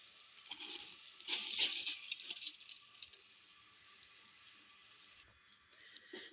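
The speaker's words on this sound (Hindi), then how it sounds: "अब जैसे ही हमारा पानी बॉइलिंग पॉइंट पे आ जाता है, हम अपने चावल इसमें डाल देते हैं।" Rice poured into a pot of water at a rolling boil while making matar pulao, a brief burst of rattling, pattering grains over a steady bubbling hiss, then settling back to a soft simmer.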